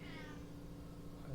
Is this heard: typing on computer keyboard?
no